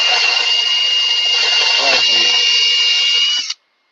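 A power drill bores at an angle into a wooden workpiece to seat a bolt. It gives a loud, steady, high whine that holds for several seconds and then stops abruptly, and a voice is briefly heard.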